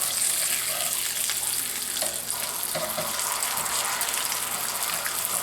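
A drip coffee maker brews a cup of coffee for red-eye gravy, producing a steady gushing, hissing water sound with faint gurgles and bubbling.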